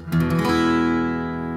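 A single strum on a Gibson J-50 acoustic guitar, before cheap upgrades, rings out and sustains, bright at the attack and slowly fading, with no voices.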